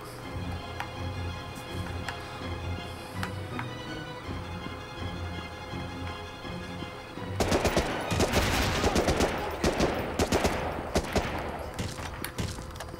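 Gunfire in the PlayStation 2 video game Medal of Honor: Rising Sun, set in the fall of the Philippines: scattered shots over a busy game soundscape, then dense rapid automatic bursts and fusillades in the latter half.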